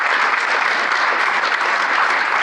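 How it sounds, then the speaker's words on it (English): An audience applauds Senator Baldwin, a dense, even wash of many clapping hands that holds steady and loud throughout, with no voices breaking through. "I hope everyone will give Senator Baldwin a round of applause"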